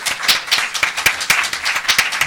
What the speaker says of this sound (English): if we could give everybody up here a round of applause for their participation today